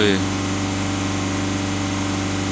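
A VW Passat B7 diesel engine runs at a steady high rev near 3000 rpm, giving a continuous droning hum with a brief higher whine at the very start.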